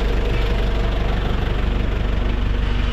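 Overhauled Hyundai H-100 engine running at idle, a close, loud, continuous rhythmic diesel chug with steady pulsing throughout.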